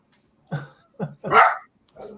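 A dog gives four short, loud barks spaced roughly half a second apart, the third longer and rougher than the others, with nothing else heard around them.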